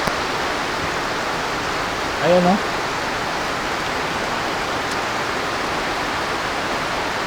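Heavy rain pours down steadily outdoors at home as a dense, even hiss filling the whole stretch, with a short spoken interjection briefly over it.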